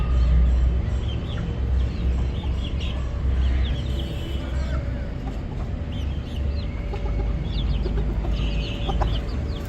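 A rooster in a home zoo clucks in short scattered calls over constant rumbling background noise, with other fowl chattering faintly nearby.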